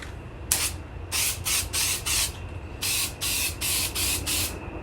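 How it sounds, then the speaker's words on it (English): Repeated short bursts of hissing spray from an aerosol can inside a Camaro interior during sound-deadening installation, about eight presses in an uneven rhythm, close and fairly loud. "I'm just gonna spray a little bit of this stuff on."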